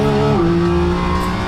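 A Porsche GT4 RS Clubsport racing engine at full throttle on the Nürburgring, a loud, steady, high-pitched howl that drops slightly in pitch as it shifts, close and continuous with no talk.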